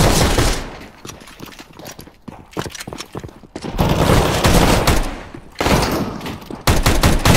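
Shotgun fire from Nova and XM weapons in the game CS:GO, with loud, close bursts of blasts coming in clusters. Quieter gaps between the bursts hold scattered single shots and clatter.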